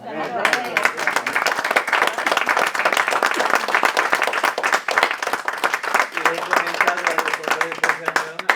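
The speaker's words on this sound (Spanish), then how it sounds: "yo le daría un aplauso" Audience applause at a talk on the Catalan independence process seen from Denmark, dense steady clapping throughout, with talk or music faintly underneath near the end.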